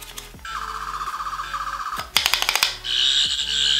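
A toy sonic screwdriver of the Third Doctor from Doctor Who: a rapidly pulsing warble, then a burst of harsh stuttering buzzes and a high shrill whine, loud and close.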